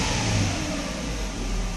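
A Mercedes engine runs steadily in the car after a throttle body and mass air flow sensor test, with a loose air flow sensor, giving a continuous close engine hum with a slight rise in revs and no talk.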